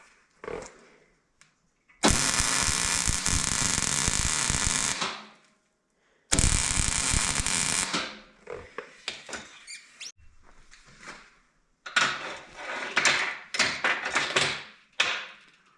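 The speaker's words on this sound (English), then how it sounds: "I like to weld them up while they're hot, that way you got good penetration" Arc welding a steel D-ring onto a pipe while the metal is hot, with two long loud bursts of steady crackling buzz and sizzle separated by pauses, then shorter irregular spatters and scraping clatter, no talking.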